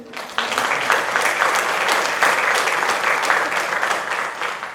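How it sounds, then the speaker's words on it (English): Audience applause at the Miss Phenix City pageant breaks out after a brief pause and holds as a loud, steady wash of clapping. "Let's have a round of applause for everybody one more time."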